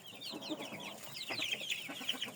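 Young chicks and cockerels, including an ash-grey young rooster, cluck and cheep continuously at close range, high chirpy calls overlapping in a busy flock.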